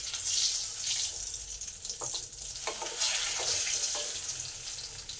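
KFC-style crispy fried chicken sizzles in hot oil in a kadai, a steady bright hiss with occasional clatters and stirring knocks, close and alone without talk.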